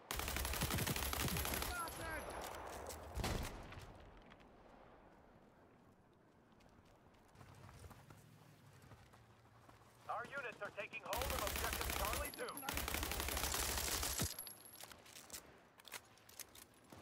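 Loud bursts of machine-gun fire erupt in the modern military shooter World War 3, a heavy volley at the start, a quieter lull with distant shots and faint voices, then another sustained burst.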